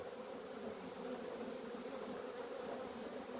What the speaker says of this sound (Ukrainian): Пасіка бджоли вулик увеличився втроє, мабуть